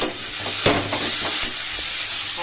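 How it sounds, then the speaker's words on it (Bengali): Spiced potatoes, eggplant and lentil dumplings fry in a pan with a steady close sizzle and hiss, broken by a couple of sharp stirring scrapes. "এই দেখো মশলা আলু বেগুন বড়ি সব কিছু কিন্তু ভালো করে কষানো কমপ্লিট হয়ে"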